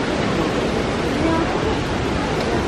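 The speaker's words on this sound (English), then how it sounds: "Almost at the waterfall. I can hear it." A large waterfall in Taiwan roars as a steady, loud broadband rush with no breaks, filling the whole short stretch.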